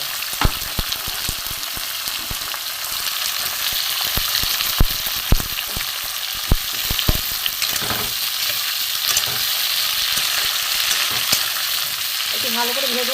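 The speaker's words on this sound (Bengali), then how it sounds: "শিম, বেগুন, আলু এখানে ভালো করে ভেজে দেবো।" Beans, eggplant and potatoes fry in a pan with a loud, continuous sizzle, broken by repeated sharp clacks and scrapes of a spatula stirring against the metal, close up and with no talking.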